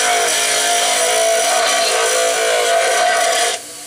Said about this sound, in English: You just grind all the excess wood off down to the shape of the blade